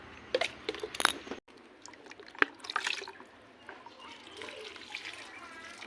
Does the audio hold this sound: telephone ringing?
no